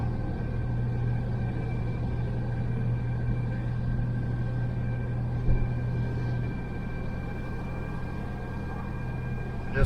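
A 1972 Chevy Nova on its first drive after restoration, a steady low engine rumble and road noise heard from inside the car, even and moderately quiet throughout.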